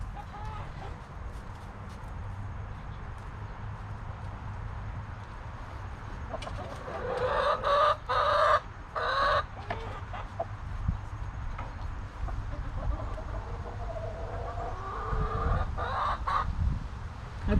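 Chicken clucks outdoors near a coop, with a burst of louder clucking partway through over steady background noise, and a few fainter clucks near the end.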